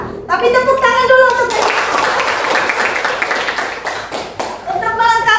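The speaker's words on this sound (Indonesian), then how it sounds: "Tapi tepuk tangan dulu" A school class claps hands together in a classroom, a burst of dense, fairly loud applause that runs for a few seconds between children's voices and talk before and after.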